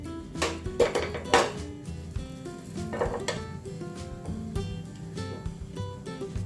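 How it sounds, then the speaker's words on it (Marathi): Whole spices (bay leaves, black cardamom, cinnamon, black pepper, cloves and shahi jeera) are sautéed in a pan for dum aloo, with close metallic clanks and scrapes of a spoon against the pan over a faint background. "हे सगळं परतून घ्यायचं आहे"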